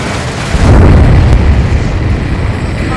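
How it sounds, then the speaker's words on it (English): A huge underwater explosion in the Ace Combat 7 video game, a loud, deep, sustained rumbling boom that swells and rolls on heavily for several seconds with no talk over it. "A huge explosion just went off underwater."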